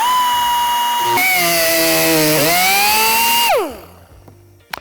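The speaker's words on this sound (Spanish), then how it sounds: "voy a hacer el recorte con la ayuda de una sierra circular" Circular saw cutting into the plastic rear bumper of a 2013–2021 Suzuki SX4 S-Cross, a loud sustained whine that dips under load, then spins down to quiet with a final clunk.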